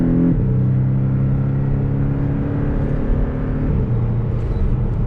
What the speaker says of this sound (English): that first gear coming off the stop sign in manual mode,